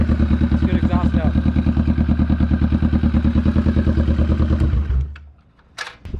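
A Kawasaki Vulcan 650 S motorcycle with an aftermarket exhaust idles with a deep, throaty, pulsing exhaust note close by, then cuts out, leaving a moment of quiet and a few clicks.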